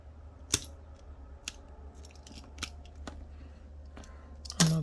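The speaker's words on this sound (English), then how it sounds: "Then I will use the cutter and I will cut this one evenly with the edge." A cutter trims an adhesive strip level with the edge during a Samsung Galaxy A51 LCD screen replacement, giving a few faint, sharp snips and clicks spaced apart over quiet room noise, with a louder scrape at the end.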